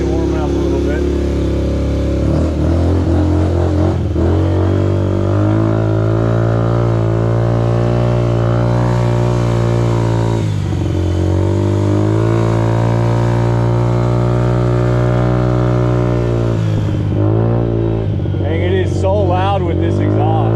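A small Kawasaki KFX50 ATV engine runs steadily up close while being ridden, a continuous buzzing drone with slight rises and dips in pitch, loud throughout and briefly shifting near the end.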